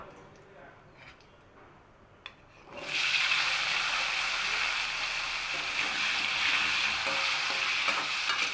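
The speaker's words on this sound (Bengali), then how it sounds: "এবার ওই তেলের মধ্যেই আমি আলুগুলোকেও ভাজা করে নেব" Potatoes dropped into hot oil for frying, a quiet moment then a sudden loud, steady crackling sizzle that continues to the end.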